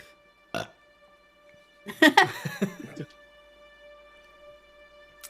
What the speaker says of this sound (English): burp, just a little.